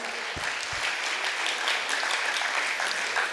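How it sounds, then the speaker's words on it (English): Audience applause for a panel at a church live-stream event, a steady even wash of many hands clapping, fairly close and sustained throughout with no speech. "Let's give them another round of applause"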